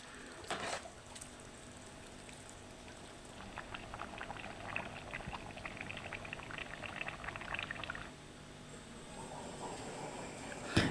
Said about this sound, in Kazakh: Енді 10 минуттай қайнатамыз жай отта.